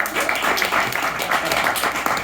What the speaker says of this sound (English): If this is your team, clap your hands.